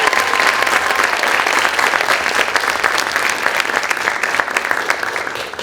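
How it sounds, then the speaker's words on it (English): An audience at a school celebration event claps for the guiding teachers, a close, vigorous and steady burst of applause with crisp individual claps poking through the dense wash. "So let's give a round of applause to the guiding teachers"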